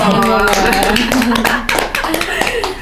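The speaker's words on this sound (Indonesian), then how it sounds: "Tepuk tangan dulu." Clapping from an audience at a KBRI Ankara event honouring earthquake evacuation volunteers in Turkey, a burst of hand claps heard close and under loud talking voices.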